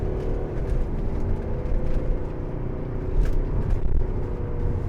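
Mercedes-Benz SLK250 CDI diesel engine heard from inside the car while driving, a steady low rumble and whir with no talk over it.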